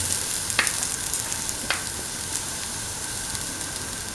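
A ground coconut spice mixture being stirred into a potato and green pea stew: a steady wet sizzle and bubbling hiss throughout, broken by a couple of sharp scraping clicks of the spoon against the pot.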